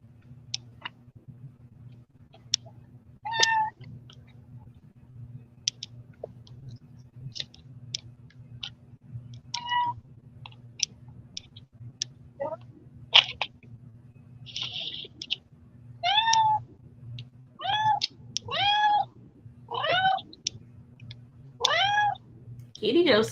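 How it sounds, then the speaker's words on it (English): A house cat meows repeatedly indoors, scattered cries that grow more frequent and insistent toward the end, heard over a low steady hum and quiet background talk. "Kitty Joe sounds very upset"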